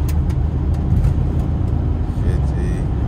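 A car on an auction test drive, its engine and road rumble heard from inside the cabin as a dense low drone that stays fairly even over a few seconds.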